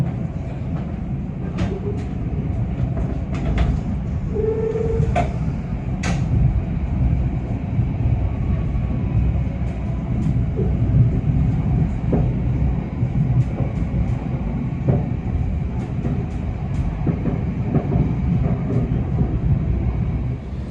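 Kertajaya premium-class passenger train, about 320 metres long, departing Brebes station: a steady, loud, deep rumble with rail clatter and occasional metallic squeals, continuous for the whole stretch.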